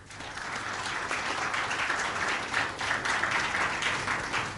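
Loud, steady applause from a lecture audience welcoming a chief guest, many hands clapping continuously throughout without any talk.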